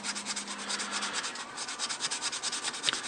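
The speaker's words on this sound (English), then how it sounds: "I'll be starting out with this higher grit and then moving down to a finer grit to really smooth things out" Sandpaper rubbing over a small sculpted 1/6 scale figure, quick back-and-forth gritty scratching strokes in a steady rhythm, close and clear with no talking.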